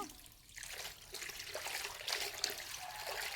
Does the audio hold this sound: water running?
yes